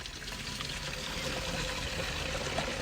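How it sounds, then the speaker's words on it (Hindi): Water pouring into a spray tank before pesticide is mixed for a cauliflower crop, a steady hissing, splashing rush at constant level with no talking. "सबसे पहले हम टैंकी के अंदर पानी डालेंगे।"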